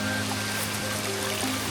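Steady rushing water from a small waterfall beside a side trail in the Blue Mountains, a constant close wash of noise with no pauses.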